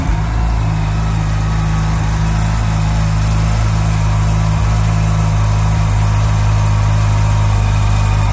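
A car engine idles smoothly and steadily after a repair that fixed a faulty spark plug, producing a continuous low rumble with stable revs, running alone without talk.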